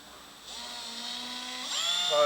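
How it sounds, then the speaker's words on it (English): A small electric drill spins up with a rising whine while drilling a pilot hole, its pitch climbing as it speeds up, fairly close and moderately loud. "I'll get the drill."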